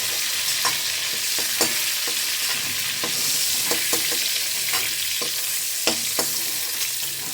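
Galda prawns fry in a pan with a constant bright sizzle of hot oil, broken by sharp clicks and scrapes as a spatula stirs them, close up with no talking.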